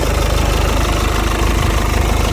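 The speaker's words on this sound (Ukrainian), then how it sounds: "Дволітровий моторчик 110 кВт, самий самий надійний" A 2018 VW Golf's 2.0-litre 110 kW engine idles with a steady low rumble and even, rapid pulsing, recorded close up with no voices.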